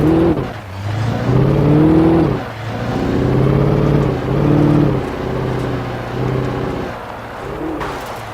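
A car driven in the Alan Wake video game, its engine note climbing and falling through several rev surges in the foreground with no talk.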